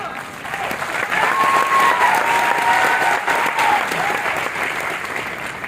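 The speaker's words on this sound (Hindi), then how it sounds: "पीछे वालों को नाराजगी है" Sustained audience clapping at a direct-selling company speech, swelling and holding strong with a faint tonal whistle or squeal riding over the crowd noise.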